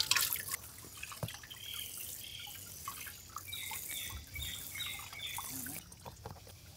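Water trickles and drips steadily in a village kitchen while homemade paneer is made, a thin close pouring stream with scattered droplet splashes, alone without talk.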